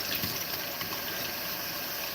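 Water pours into a dirty cooking pot to soak it, making a steady, close rushing and splashing sound that fills the short moment without any voices.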